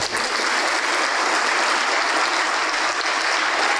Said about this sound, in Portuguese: Vamos aplaudir mais, está chegando mais.